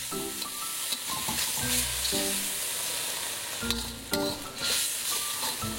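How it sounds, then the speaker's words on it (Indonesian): Seasoning paste with oyster sauce and white pepper sizzling and crackling steadily in a hot pan as it is stir-fried, close and continuous with occasional scraping stirs. "Kita tumis lagi, dan kita masukkan setengah gelas air matang."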